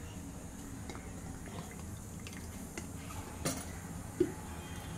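Crushed musk melon syrup poured into a container for a sharbat, a soft liquid trickle under a steady background hiss, with a small clink of a utensil near the end.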